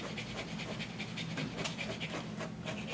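A dog pants steadily in quick, close, breathy bursts during a full brush-out grooming session with no shaving, and the rhythm stays even throughout with no talk.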